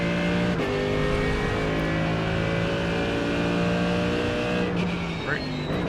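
Mercedes AMG GT3 race car in the iRacing sim at Spa, its engine droning steadily as it pulls up through the gears, with a brief shift break near the start and another near the end, loud and continuous.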